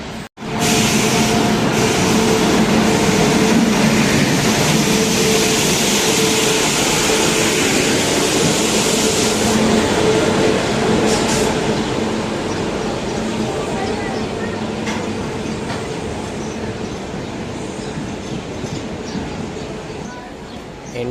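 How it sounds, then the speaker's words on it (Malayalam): The Jamnagar–Tirunelveli Express rolls into platform seven with a steady, loud rumble and hum that slowly eases, with voices murmuring in the background throughout. "ജാംനഗർ തിരുനെൽവേലി എക്സ്പ്രസ് അങ്ങനെ ഏഴാമത്തെ പ്ലാറ്റ്ഫോമിൽ വന്നുകൊണ്ടിരിക്കുകയാണ്"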